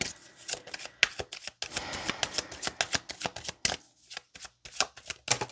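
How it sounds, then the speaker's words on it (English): Tarot cards shuffled repeatedly in quick riffling bursts, close and crisp, with short pauses between shuffles. "Wow, that's a lot of shuffling."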